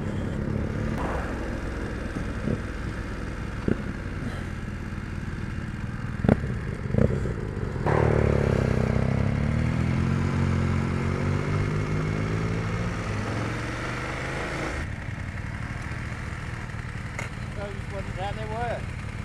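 Engine of a 2019 BMW F850GS motorcycle on the move along back roads and a dual carriageway around Nottingham, a steady near rumble that swells as the bike pulls away, with talk over it.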